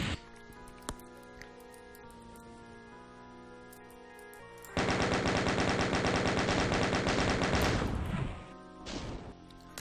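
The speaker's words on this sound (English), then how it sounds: "Perhaps our chain gun is not as effective from this distance, but at least we're still hitting him." Sustained rapid chain gun fire in the Doom slaughter map MAP27 of 5 Rooms of Doom: a dense, loud burst of automatic shots lasting several seconds, fading near the end, with game noise and scattered sounds before it.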